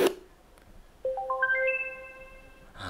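A short tap is followed by a bright electronic ringtone of rising chime notes that ring out and sustain, fairly clear against near silence.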